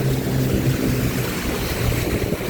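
A motorboat travels up a river through rapids and waterfalls, its steady engine drone blending with rushing water, loud and continuous throughout, with no talking.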